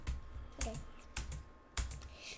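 Four or five sharp clicks of a computer keyboard being typed on, irregularly spaced and faint against a quiet background, with no talk.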